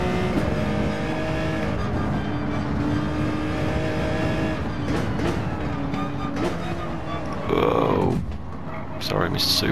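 Race car engines roar continuously in the Gran Turismo 7 video game during a Daytona GR3 cup race, with a surge of revving and possible tire squeal near the end, under a player's voice talking.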